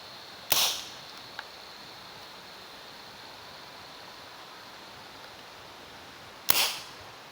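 A homemade butane-powered PVC toy gun firing 8mm steel balls: two sharp pops about six seconds apart, each with a brief hiss, over a quiet steady background.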